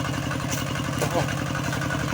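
A farm tractor engine idles steadily while driving a pump that lifts water from a large pond into a rice paddy, its even pulsing chug continuous beneath someone speaking close by.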